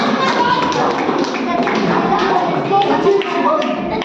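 Children at a youth camp class give loud, steady applause, a dense continuous patter of many hands clapping at close range that lasts the whole stretch.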